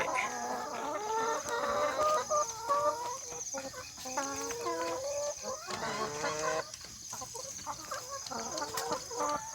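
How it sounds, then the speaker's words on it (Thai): Laying hens clucking busily and steadily throughout inside a coop, several birds close by with overlapping cackles, a faint rooster-like call mixed in. "แม่ไก่ ไก่ไข่ครับผม"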